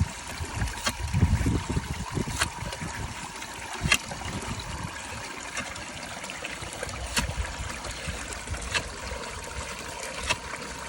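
Water trickles and drains into the soil at a hand-drilled tube well, a soft, steady dribble close by with a few sharp knocks and clinks over it and no talk.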